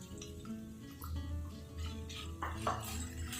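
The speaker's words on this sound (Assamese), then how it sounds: "এতিয়া বইল আলুখিনি মই দি দিলোঁ" Boiled potatoes tipped into a pan with capsicum while cooking bread potato cheese patties: close, scattered clinks and scraping knocks of utensil against pan, with a couple of louder clatters.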